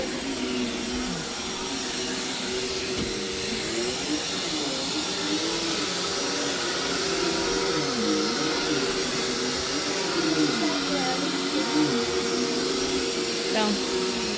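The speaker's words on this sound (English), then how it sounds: "My daughter is calling herself vacuuming in her room." A vacuum cleaner runs continuously in a nearby room, a steady whining hum with a wavering motor pitch throughout, while voices talk faintly over it.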